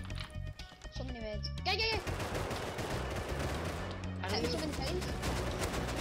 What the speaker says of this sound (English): There's two guys shooting me at the same time.